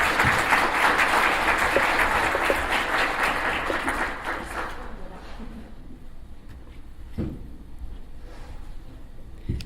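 An audience applauds to welcome a speaker at a talk on foreign language instruction, a dense burst of clapping that gradually thins and fades out over several seconds.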